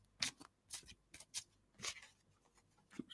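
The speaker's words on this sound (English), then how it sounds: "let's just see just another little shuffle here" A deck of playing cards is shuffled by hand at a table, giving several quick papery riffles and soft slaps in separate bursts, quiet and close, with no voices.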